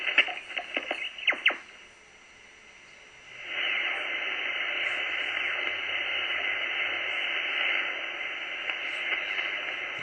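A Racal RA1772 HF receiver tuned to 7 MHz gives a few tuning clicks, a brief quieter gap, then a steady hiss of band static that holds loud and even to the end.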